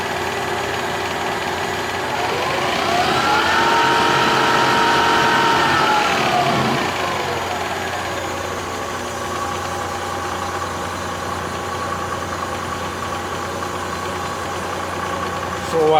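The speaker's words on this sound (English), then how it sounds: "I'm going to turn up the speed now on the Reeves drive." Colchester Colt lathe running smoothly as its speed is raised on the Reeves drive, with a steady mechanical hum whose tone climbs and then settles back.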